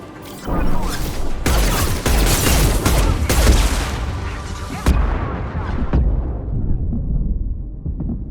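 Mass Effect 2 combat with a loud, close explosion and heavy booms, sharp cracks of gunfire breaking through, then a long rumbling decay that fades over the last seconds.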